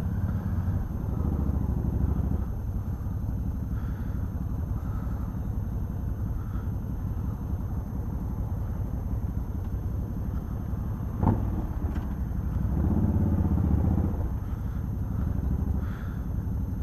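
A Harley-Davidson motorcycle engine idles and revs unevenly with a continuous low rumble, swelling and settling as it creeps through stop-and-go traffic in Gainesville, Florida.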